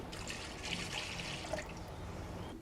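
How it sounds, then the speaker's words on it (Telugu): Half a litre of water pours into a vessel with a soft, close splashing gush that lasts about a second and a half, then fades to a faint trickle. It is quiet and heard alone. "నెక్స్ట్ మనం ఇందులో ఒక 1/2 లీటర్ వాటర్ని యాడ్ చేసుకుందాము."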